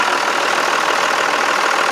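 A farm tractor's engine idles loud and close, a steady, unbroken rumbling drone with no voices over it.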